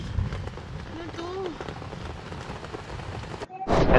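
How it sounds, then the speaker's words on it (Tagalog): Very heavy rain pours steadily down on a tent during a tuk-tuk camping trip in the Philippines, a dense, continuous patter close by, with brief voices and a sudden louder gush near the end. "umuhos nga yung sobrang lakas ng ulan"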